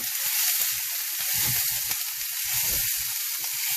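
Lentils stirred in a pot give off a steady, close sizzling hiss, broken by soft scraping bumps from the stirring.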